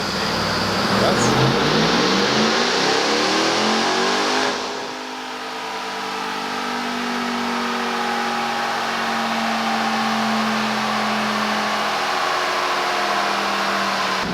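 A 2021 Ram TRX truck engine revs hard on a dyno pull, loud and continuous, with pitch climbing steadily over several seconds before a brief dip and then a sustained high-rpm drone held near the limiter.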